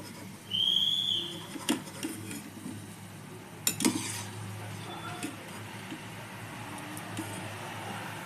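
Fried gulab jamun are lifted from hot oil in a pan: a few scattered clinks and scrapes of a spoon over a quiet background sizzle, with a brief faint whistle-like tone near the start.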